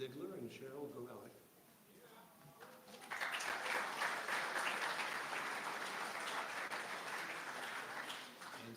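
An audience at Chautauqua breaks into sustained applause, a dense wash of clapping that swells after a few seconds and holds steady, with speech heard briefly before it starts.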